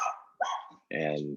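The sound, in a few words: dogs barking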